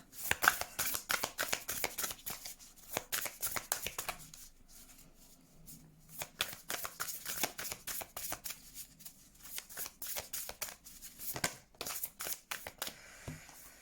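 Tarot cards shuffled by hand: quick rustling riffles and soft slaps in close bursts, a brief lull partway, then more rapid shuffling.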